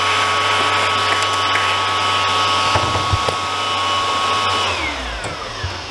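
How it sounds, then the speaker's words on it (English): A vacuum cleaner runs loud and steady while cleaning up debris during a DIY replacement of single-pane double-hung windows, with a constant whine and a few knocks before it winds down near the end. "Now it's going to vacuum this up and move on to the next step."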